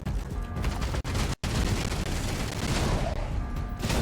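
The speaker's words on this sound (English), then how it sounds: "we just heard some Xenos being greeted by my heavy cannons" Heavy cannons fire at Xenos in Outpost: Infinity Siege, a dense, loud barrage of booming shots and rattling gunfire that pounds on almost without pause, broken only by a brief gap of silence.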